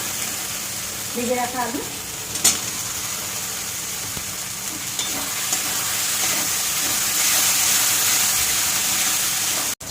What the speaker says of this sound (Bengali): আলু দিয়ে ভালো করে কষে নিয়েছি